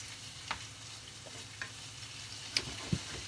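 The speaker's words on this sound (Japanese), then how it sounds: "しんなりするまでこう炒めていくという形ですね" Vegetables for sweet and sour pork stir-fried in a hot pan, a soft continuous sizzle broken by a few scattered utensil taps and scrapes.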